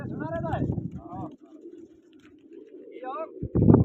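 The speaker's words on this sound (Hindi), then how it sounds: "ये और कबूतर है भैया सुना" Pigeons coo in soft, throaty bursts near the start and again later during a large pigeon competition, with a low murmur of background noise and a voice in between.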